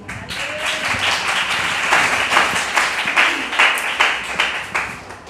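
Church congregation clapping during a sermon; a rhythmic group clap with distinct, regularly spaced beats building slightly in loudness, close and unaccompanied by talk.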